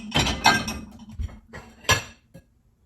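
Metal cutlery, including a pasta fork, clinks and clatters as it is set into a Maytag dishwasher basket, with a few separate sharp rattles and a final small knock before quiet.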